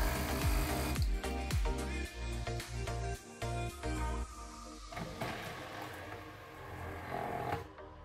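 A repaired Krups Nespresso U XN250 coffee machine runs under test with a loud, buzzing mechanical hum, broken by several sharp clicks and knocks early on, then settling into a steadier drone that fades slightly near the end.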